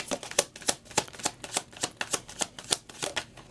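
Tarot cards being handled and laid out one after another on a table, a regular series of crisp, close slaps and flicks with no talking.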